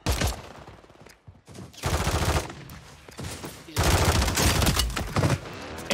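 Gunfire in the Warzone 3 video game, a rapid run of close, loud shots in bursts with brief gaps, then a denser stretch of firing toward the end.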